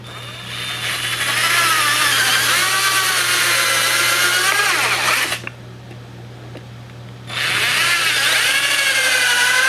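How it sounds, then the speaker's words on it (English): A power drill whines loudly and steadily, drilling a pilot hole into wood for lag bolts, stops for about two seconds, then spins up again and keeps running. "we'll take and drill a pilot hole into this and put our lag bolts"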